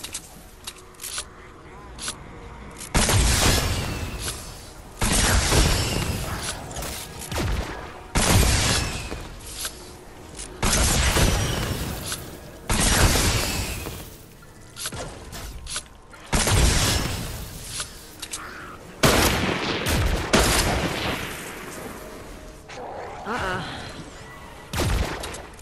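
Gunfire rattles in dense, loud bursts with booms and shattering crashes during a frantic Fortnite Save the World fight, while players shout over the action.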